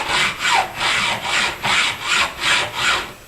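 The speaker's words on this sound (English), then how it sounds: "a hacksaw, once it gets cutting, it cuts pretty quick" A hacksaw cuts into the end of a steel nail with steady back-and-forth strokes, about seven rasping passes in a regular rhythm, close and fairly loud.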